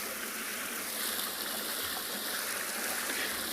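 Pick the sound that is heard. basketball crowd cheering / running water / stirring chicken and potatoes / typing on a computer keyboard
running water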